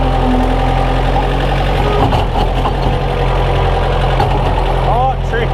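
A 110TLB tractor loader backhoe fitted with a huge loader bucket and an HLA3000 blade, pushing snow with its diesel engine running steadily and loud throughout, the operator talking over it now and then.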